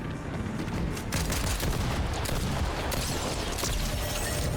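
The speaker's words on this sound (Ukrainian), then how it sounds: "Завжди приємно приєднатися до гарної стрілянини." Gunfire in a Fortnite match, a dense fusillade of rapid shots and cracks from several weapons that continues throughout, moderately loud and fairly near, with no talk.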